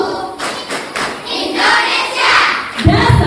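Children clap the Tepuk Negaraku chant together, uneven rhythmic bursts of claps mixed with bumps and a heavy thud near the end, close and fairly loud.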